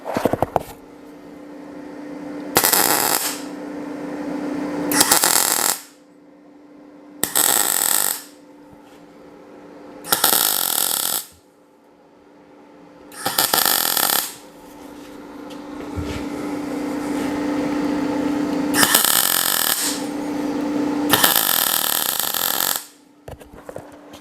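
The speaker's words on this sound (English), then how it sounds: "I won't get any possible weld spatter messing up the thread of my nut when I weld it" A nut is welded onto a bolt for a custom rat rod style gear shift knob, heard as a series of loud buzzing, crackling welding bursts, about nine in all, separated by short quiet pauses.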